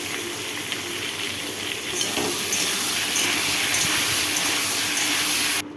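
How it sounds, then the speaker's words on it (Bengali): Potato and eggplant pieces frying in mustard oil with salt and turmeric give a steady, close hiss and sizzle that holds evenly throughout and stops abruptly at the end, with no talking. "আলু বেগুনটা দিয়ে নুন হলুদ দিয়ে একটু ভেজে নেব"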